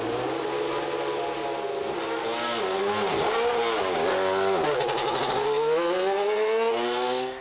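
A 2011 Mercedes-AMG Petronas Formula One car drives on track, its high-pitched engine screaming loud and close throughout, with the pitch dipping and rising as the driver shifts and accelerates.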